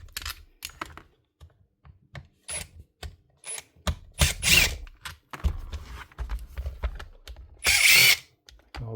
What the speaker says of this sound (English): Take out all the gearbox screws because I'll have to lift this up.